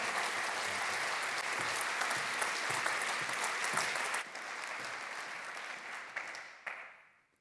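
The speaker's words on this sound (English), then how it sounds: "So give him a warm round of applause" Audience members at a university conference opening session give a warm round of applause, a full, steady clapping from many hands that thins and fades out at the end.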